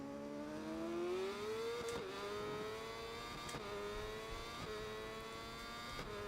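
A Yamaha R1 superbike engine in the racing game SBK 22 at Donington Park drones steadily as a close, sustained tone, its pitch climbing and dropping with several gear changes over a few seconds, with no voices.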